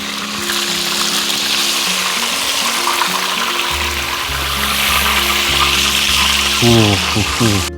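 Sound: crucian carp frying in oil

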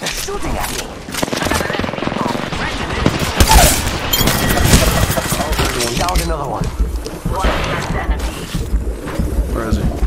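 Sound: gunfire in a video game

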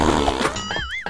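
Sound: fart sound effect in Roblox video game

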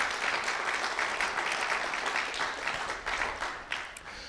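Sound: applause

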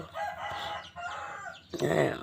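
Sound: rooster crowing

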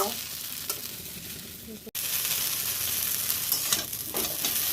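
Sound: stir-frying veg chowmein

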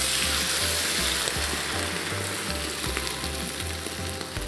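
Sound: chicken stock boiling with chicken wings and bacon

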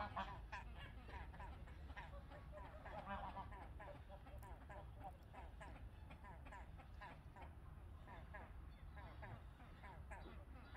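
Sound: ducks quacking and geese honking

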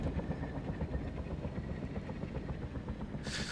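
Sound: helicopter crashing in the video game Arma

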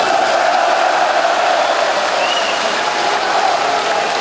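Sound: audience cheering and applauding a speech

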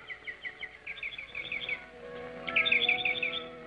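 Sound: birds calling in a film scene

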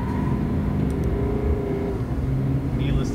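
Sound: Chevrolet Silverado 3.0 Duramax accelerating 0-60 mph while towing camper

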